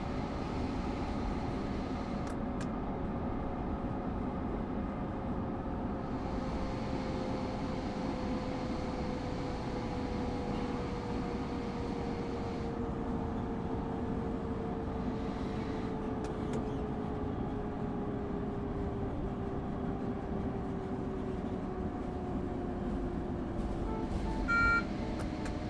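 An ALP-46 electric locomotive on the Morristown Line in the video game Train Sim World 6 runs with a steady rumbling drone and a slowly falling motor tone, continuous throughout with occasional faint beeps.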